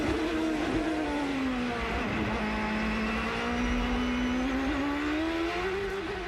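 A Champ Car race car engine runs steadily up close, a sustained tonal drone that rises and dips slightly while the car has no drive from a gearbox failure, with no talking.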